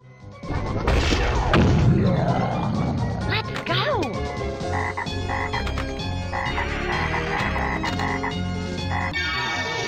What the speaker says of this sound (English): Frogs everywhere!